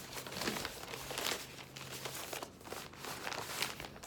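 Continuous crinkly rustling and shuffling of a fabric bag being handled up close, with scattered crunchy crackles and no talking.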